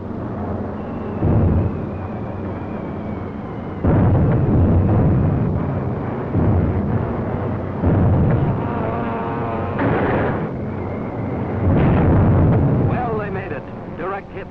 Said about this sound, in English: With those 600-pounders of TNT blowing up right in Hirohito's face.